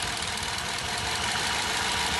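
A car engine runs rough at idle with one ignition coil unplugged, giving a steady, dense, uneven knocking rumble close by, with no talking.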